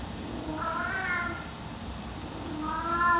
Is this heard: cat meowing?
yes